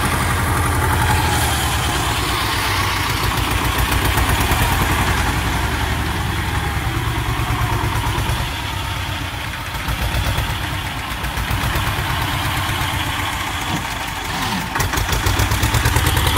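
A T-25 tractor engine idles loud and close, a steady rough diesel chug that runs unbroken the whole time with no voices.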